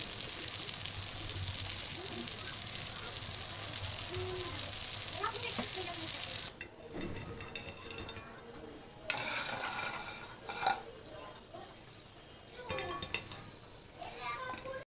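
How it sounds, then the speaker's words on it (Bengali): Crunchy fried khasta biscuits are set onto a plate with light clinks and crisp scraping against dishware, after a stretch of background frying sizzle, with a voice speaking throughout. "বিস্কিটগুলো প্লেটে রাখার সময় কি সুন্দর কর্মর শব্দ হচ্ছে"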